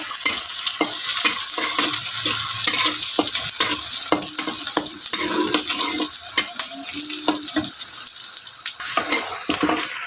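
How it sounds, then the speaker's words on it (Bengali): Loud, steady sizzling of onions frying with beef in a pan on a clay stove, with frequent scraping stirs and clinks over the bubbling. "গরুর মাংসর পেঁয়াজগুলো একটু ভাজা ভাজা করতেছে"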